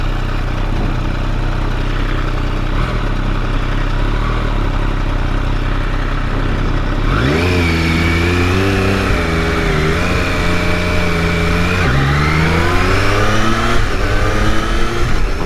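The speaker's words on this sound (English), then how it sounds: "Never tire of the sound of these triples" A Triumph Daytona Moto2 765 triple-cylinder sport bike under way, first a steady loud engine drone, then a sharp rev rising through climbing gears with a brief drop between shifts, close and continuous with no talking.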